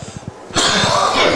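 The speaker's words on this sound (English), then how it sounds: "if you hear me have a coughing fit, you got to take over" A sharp, loud cough from a football game commentator bursts out, preceded by a few soft low thumps or muffled sounds.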